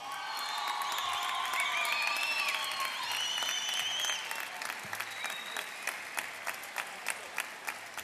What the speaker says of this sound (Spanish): Aplaudimos también, les damos la bienvenida a la delegación de la Universidad Nacional de Villa María.